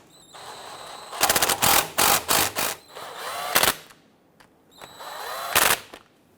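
A power tool snugs down the bolts on a 2006-2010 Hummer H3 rear wheel bearing, firing in several sharp, loud whirring bursts with short pauses between them and a few isolated bursts later.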